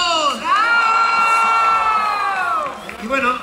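A crowd of children at a Three Kings' Day toy giveaway in Michoacán lets out a loud, sustained collective shout and cheer, rising and holding for a few seconds before tapering into scattered voices.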